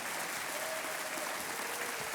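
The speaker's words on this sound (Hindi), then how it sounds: "तालियों के साथ इनका एक बार हम फिर अभिनंदन करते हैं" A quiz-show studio audience applauds a contestant after a win, a dense, even wash of clapping that sounds somewhat distant and faint.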